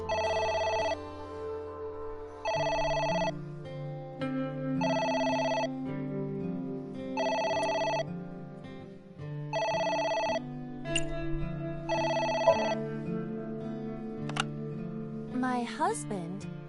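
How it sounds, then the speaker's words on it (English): A telephone rings in the video game AI: The Somnium Files, seven evenly spaced electronic ring bursts repeating over a low game music bed, with a few brief clicks near the end. "It's the phone. Maybe try picking it up?"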